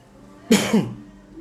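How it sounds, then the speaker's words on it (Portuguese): A single sharp sneeze bursts out abruptly, close and loud, then trails off quickly into quiet. "passou pra mim o espirro"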